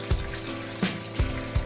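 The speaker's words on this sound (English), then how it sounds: "Slowly pour the wash into the strainer." Fermented citrus sugar wash poured slowly from a full bucket into a strainer, a soft continuous watery pour with a few low splashy thumps as the liquid lands, close and moderately loud.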